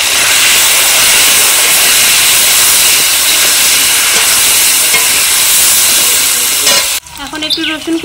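Potato and eggplant pieces fry in hot oil with salt and turmeric, a loud, steady, close sizzle that fills the whole clip before it suddenly drops off near the end.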